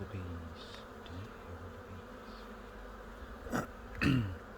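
Honey bees buzz steadily around an open hive during an inspection, a dense droning hum close by, with a couple of louder rasping bursts near the end as bees pass near.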